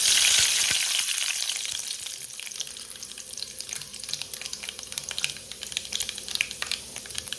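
Mustard seeds, urad dal and fenugreek crackle in hot oil, opening with a loud burst of sizzle that settles into a dense, continuous spatter of tiny pops, close and alone.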